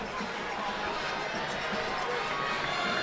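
A football crowd in the Bowling Green student section during a game against Toledo keeps up a dense, steady roar of voices and cheering at moderate distance throughout.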